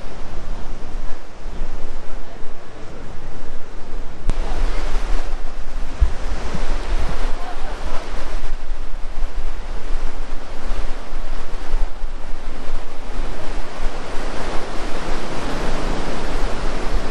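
Ocean waves and surf rolling onto a beach in Bali, a loud, steady roar of breaking water that swells and surges throughout with wind noise, no voices.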